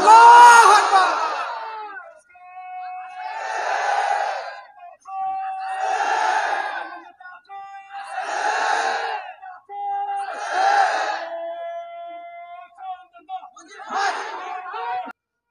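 A large crowd at a Bangladesh Jamaat-e-Islami workers' conference in Tanore, Rajshahi chants in unison after a takbir call, five loud rhythmic shouted responses separated by short pauses, then a final rougher cry.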